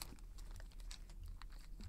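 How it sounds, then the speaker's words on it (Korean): Plastic vinyl wrapper peeled from bread makes faint, continuous crinkling and rustling, close up and quiet, with no talking. "여러분도 지금 이렇게 막그 비닐 벗기는 소리 들어가고"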